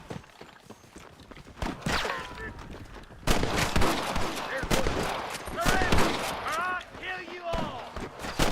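Gunfire in a Red Dead Redemption game session: several sharp gunshots and a volley of shots ring out over game noise and ambient effects, with people talking throughout.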